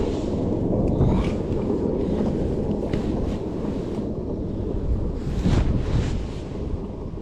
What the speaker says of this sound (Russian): Ветер просто жуткий.